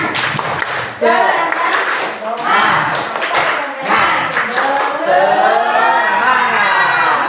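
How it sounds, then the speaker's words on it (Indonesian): A group of teachers performs a clap chant, patterned bursts of hand claps mixed with loud chanted group voices, close and lively, the rhythm shifting between clapping beats and sung phrases. "Oke, untuk semangat coba Bapak Ibu tepuk semangat"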